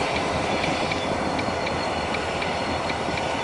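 Loud CN freight train rolling past at close range after the locomotive's turbo blew and caught fire, a steady dense rumble and roar with faint repeating wheel clicks throughout, no voices.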